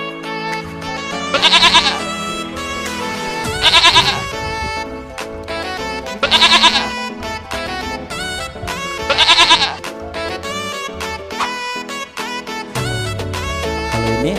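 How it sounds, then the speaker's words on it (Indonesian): A goat bleats four times at regular intervals, each call loud and quavering, over continuous background music. "Betul sekali, kambing."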